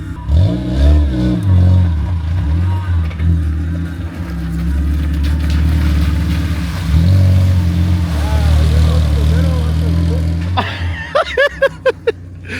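A Mazda Miata's engine revs and strains continuously, churning as the car drives through a mud pit at an off-road park, with people talking over it and a few clattering knocks at the end.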